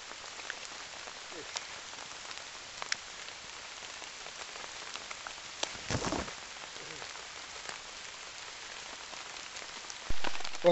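Rain falling on a wild campsite, a soft steady patter of scattered drops with occasional sharper taps and a brief louder burst near the end, no talking.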